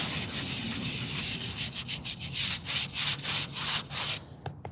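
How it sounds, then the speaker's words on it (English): A small nylon brush scrubs a veteran's headstone in little circles, a close rhythmic scratchy rubbing with repeated strokes roughly every quarter second, ending abruptly. "nylon little brush like you're going to clean your bathroom with"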